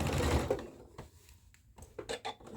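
A sewing machine stitches a dress skirt seam, a steady mechanical whir at first that fades, then a few short separate bursts of stitching near the end.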